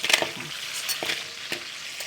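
King-size crabs fry in hot oil with a steady, close crackling sizzle marked by repeated sharp spitting bursts, and no voices are heard.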